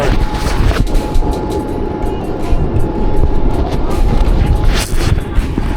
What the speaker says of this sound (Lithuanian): Judam su metro jau.